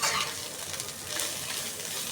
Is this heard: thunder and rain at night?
no